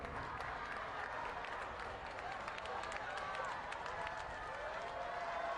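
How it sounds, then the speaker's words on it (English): An audience at a college award function gives a chief guest a round of applause: a continuous, even wash of many hands clapping, heard at a modest distance. "give him a big round of applause."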